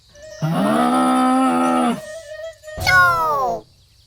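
Cartoon cow mooing in two long, loud, drawn-out calls with a short pause between them, close and clear with no talk over it.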